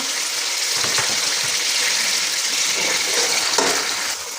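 Onions softening in a hot pan with chicken give a steady, broadband sizzle and crackle that runs unbroken at close range, with a few faint stirring scrapes and no voices.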